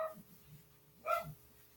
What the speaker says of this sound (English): What are you barking at, JoJo?